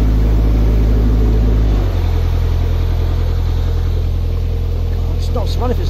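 A narrowboat's engine runs at high revs on the Pocklington Canal, struggling through thick weed. It makes a loud, steady mechanical drone with strong low hum and harmonics, dipping in pitch partway through, and a voice is faintly audible near the end.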